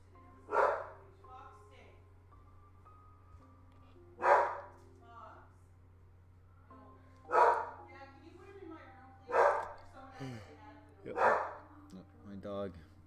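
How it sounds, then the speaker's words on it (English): A pet dog barks in five or six loud, separate bursts spaced a couple of seconds apart, set against a quiet steady hum, with occasional low tones between barks. "My dog loses it whenever anyone like comes near the house"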